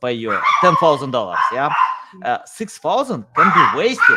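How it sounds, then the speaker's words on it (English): Dogs bark and yip in a home during a podcast conversation, the sharp yelps mixing with and partly cutting through someone speaking close to the microphone. "Sorry for my dogs; they usually take part on all my podcasts."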